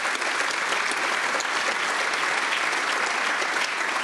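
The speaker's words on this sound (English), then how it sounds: "Does their applause come out of my time?" Audience in the Irish parliament in Dublin applauds steadily, a dense, even roar of many hands clapping throughout, without pause.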